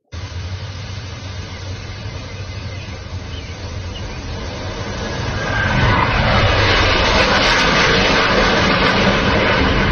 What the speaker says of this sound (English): pay attention to that little drone, like, bzz, you know? This is like a ball drone or something.